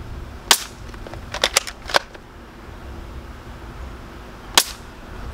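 A Bug-A-Salt Widow Maker 3.0 salt gun fires about six sharp, close cap-like pops. A quick cluster comes early, then a lone shot after a pause, all against quiet background.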